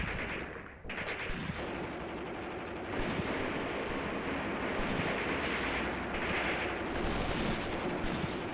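A mortar barrage in the war game Graviteam Tactics brings a continuous roar of distant explosions and gunfire, with heavy booms rolling through a dense, sustained rumble.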